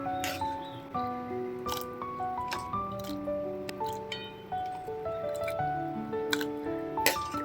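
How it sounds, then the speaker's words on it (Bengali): Freshly cooked kul (jujube) chutney is scooped from the pan into a bowl, giving a string of close, sticky wet squelches and drips at an irregular pace. "চাটনিটা এবার আমি এই পাত্রে তুলে নিচ্ছি।"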